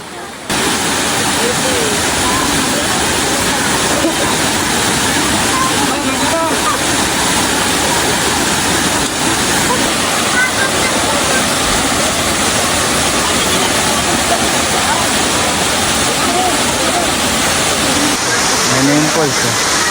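Batlag Falls pouring steadily, a loud, dense, unbroken rush of cascading water filling the scene from start to finish, close and constant.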